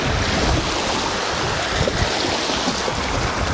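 Sea surf washing steadily against the shore, a dense continuous wash of breaking water mixed with wind buffeting the microphone, fairly loud and unbroken, with no voices.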